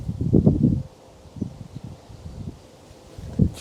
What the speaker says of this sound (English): that wind starts again